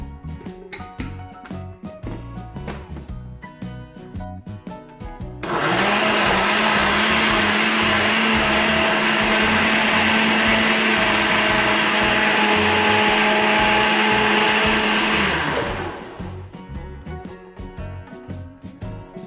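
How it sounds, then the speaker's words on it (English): Kitchen blender pureeing stewed tomatoes and tomato sauce for homemade pizza leather, a loud steady motor whir with a constant high roar that runs about ten seconds, starting and stopping abruptly. "So we're only putting the stewed tomatoes and the sauce into the blender."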